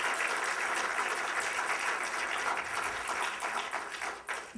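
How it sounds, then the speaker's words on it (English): A conference audience applauds in a steady wash of many hands clapping, moderately distant, tapering slightly near the end. "Please, Lauren, lead the round of applause."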